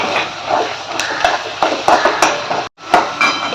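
Ground onion paste sautéed in a pan for a Malvani-style tender jackfruit curry, a spoon clinking and scraping the pan in quick irregular strokes with a soft frying hiss beneath, loud and close, no voices.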